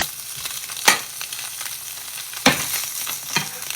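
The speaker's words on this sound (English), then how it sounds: "I'm gonna quickly throw in a nub of butter. Let that melt in there." A nub of butter melts and sizzles in a frying pan while rainbow trout is cooked. A steady close crackle is punctuated by a few sharp utensil clinks.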